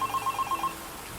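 A telephone rings in a phone box in Half-Life 2, giving a loud, close, rapid double-burst bell trill that repeats several times and then stops, leaving quiet room tone.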